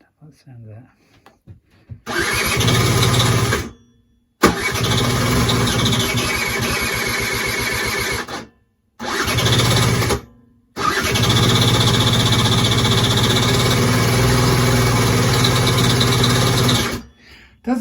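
A Peugeot Speedfight 4 scooter engine with a newly fitted piston cranks loudly and up close in repeated long bursts separated by short pauses, sputtering and trying to catch without settling into a steady idle.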